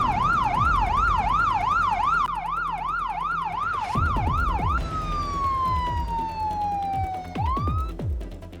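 Police and ambulance sirens in the BeamNG.Drive driving game: a loud wailing siren cycles steadily, then gives way to a long falling tone and a sharp rising sweep near the end, with vehicle rumble underneath.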